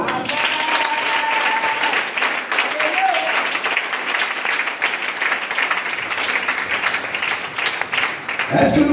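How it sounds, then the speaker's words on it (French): A church congregation applauds and cheers in sustained, loud clapping with shouted acclamations mixed in, continuing steadily for about nine seconds before tapering at the end. "Allez à Dieu une acclamation."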